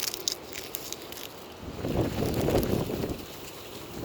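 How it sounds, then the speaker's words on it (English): Wind in a gorge buffets the microphone in low rumbling gusts, swelling louder through the middle, with faint rustling above it outdoors. "Excuse the wind out here."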